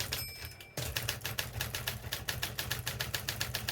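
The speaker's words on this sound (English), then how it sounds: "It certainly does feel a smoother and more rapid typing experience using this machine." Rapid, regular keystrokes on an Imperial electric typewriter, a rebadged German Adler with a power roll in excellent condition, clatter close and loud, opening with a brief whir before a steady run of quick, even strikes.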